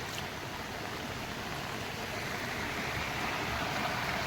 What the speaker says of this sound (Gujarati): એટલું પાણી જઈ રહ્યું છો ને કે ત્રણ ત્રણ ચાર ચાર જગ્યાએથી પાણી આવે છે